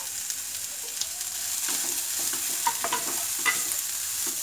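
Capsicum, green chilies, cabbage and carrot stir-fry in a hot pan, a steady close sizzle with scattered light scraping of the spatula, no voices.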